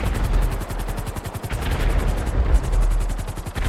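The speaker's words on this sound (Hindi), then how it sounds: "ये पटाखे GTA 5 के ब्रिज पर फूट रहे हैं" Firecrackers going off on a bridge in the video game GTA 5, a dense, continuous rapid string of sharp pops and bangs over a low rumble, loud and sustained with no talk.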